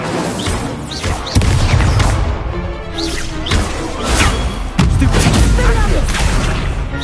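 Rapid spell effects in Hogwarts Legacy combat, including the Incendio fire spell, crackle and boom in loud repeated bursts and whooshes amid a busy game mix, with a shouted voice over it.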